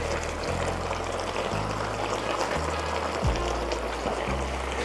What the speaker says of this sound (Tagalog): Maglalagay lang tayo ng tomato sauce.